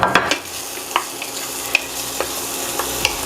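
Carrot and Scotch bonnet pepper frying in a lightly oiled pan with onions, a steady close sizzle punctuated by sharp scraping clicks of stirring, with no talking.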